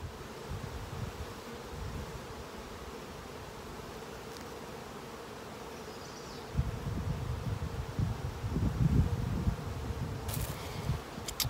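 Honeybees buzzing around an open hive during a spring inspection, a dense continuous drone that swells louder in the second half, with no talk.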